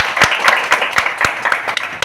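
An audience at an RCM business seminar in Silvassa claps in loud, fairly rhythmic bursts, several sharp claps each second over a short stretch.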